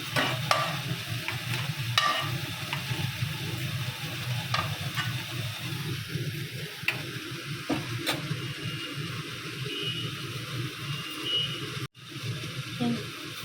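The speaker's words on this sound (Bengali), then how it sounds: "বাকিগুলোও ভেজে নিচ্ছি একইভাবে" Pieces of ash gourd fry in a little oil with a low crackling sizzle. A utensil clinks and scrapes now and then, with faint voice-like sounds underneath and a brief cut near the end.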